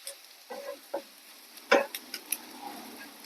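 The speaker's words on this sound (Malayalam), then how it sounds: "എല്ലാം കൂടി നല്ലവണ്ണം ഇളക്കി യോജിപ്പിക്കാം." A spoon stirs a mixture of chopped onion, curry leaves, dried chilli, turmeric and salt in a pan, giving a few sparse scrapes and one sharp, louder scrape near the middle over a quiet background.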